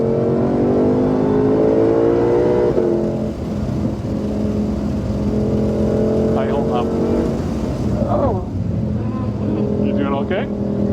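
A 2020 Shelby GT500 engine drones and revs on a race track, with a steady loud engine tone that rises in pitch, heard from inside the car beneath voices talking over it throughout.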